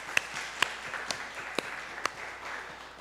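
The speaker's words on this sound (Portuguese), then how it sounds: "palmas, grupo B" A church Bible-study group gives a short, thin round of applause for group B, a few sharp claps standing out above soft scattered clapping at moderate distance, with no talking.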